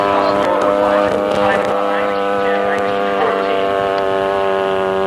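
A Sopwith Pup biplane flies overhead with a loud, steady droning engine and propeller hum, while someone talks continuously over it.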